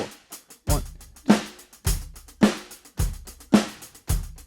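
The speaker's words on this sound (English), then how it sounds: "genre of beats where you play 16th notes on the hi-hat" A drum kit plays a steady beat, with kick and snare strokes landing regularly under quick, light sixteenth-note ticks on the hi-hat. Every hit is close and clear, with no talking.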